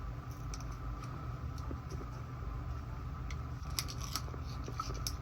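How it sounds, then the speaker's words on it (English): A paper wrapper is torn off a heavily waxed object, making faint, sparse crinkling and ripping snaps close by over a low, steady background hum. "So trying to get the wrapper off, tearing the paper up."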